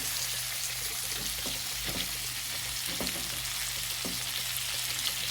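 Cucumbers frying with onions in a pan: a steady, fairly quiet sizzle with soft crackles and occasional stirring taps, no voices.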